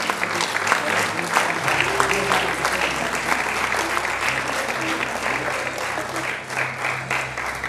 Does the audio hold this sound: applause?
yes